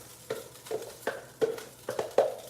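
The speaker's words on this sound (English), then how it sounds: "So what I'm going to do is go ahead and add my rice" Rice being stirred in a hot skillet, heard as six or so separate scraping strokes of a utensil, each short and fairly close, spaced about every half second over a faint background sizzle.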